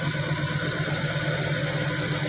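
A 2012 Chevrolet Spark engine idles roughly with a misfire. A steady, close, uneven low rumble continues throughout with no talk.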